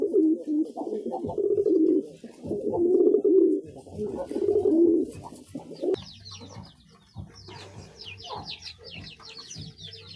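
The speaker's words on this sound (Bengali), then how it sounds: "তিনোটা নর কবুতর কীরকম মারামারি লাগছে" Three male pigeons fighting coo in deep, throaty bursts close by, with scuffling and higher chirping calls mixed in later.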